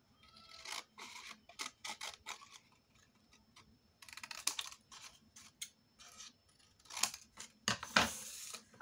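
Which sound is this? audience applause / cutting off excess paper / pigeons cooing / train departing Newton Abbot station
cutting off excess paper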